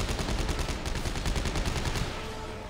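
Rapid automatic gunfire from the sci-fi horror shooter Dead Space 3, a fast rattling burst of shots that runs for about two seconds before cutting off, with no talk over it.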